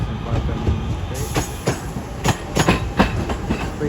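An Advance West Coast train from Glasgow Central to London Euston rolls past at Crewe with a rhythmic clickety-clack of wheels over rail joints, sharp repeated clunks over a rumbling base, and faint talk underneath.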